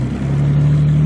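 A car engine in a gravel rally video game revs hard at full power, a loud, steady, sustained drone that holds constant through the moment with no voices.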